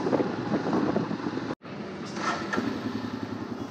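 Royal Enfield motorcycle ridden on the road, steady engine rumble mixed with wind buffeting the microphone, loud and continuous apart from one brief dropout midway.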